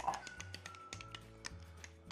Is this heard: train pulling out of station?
no